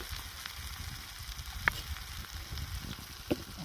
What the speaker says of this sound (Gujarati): ચણા નાખી દીધા